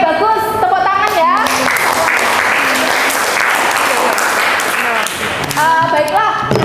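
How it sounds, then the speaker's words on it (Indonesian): A classroom of students claps together in a loud, dense burst, with voices and tonal speech audible at the start and end around the applause. "Oke, bagus. Tepuk tangan ya."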